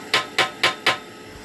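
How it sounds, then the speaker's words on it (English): Hammer blows on the lamella grate of a DIY biomass gasifier with an ash sweeper: four sharp metallic strikes in an even, steady rhythm, close and loud, with no voices. "Maybe it needs some hammering too."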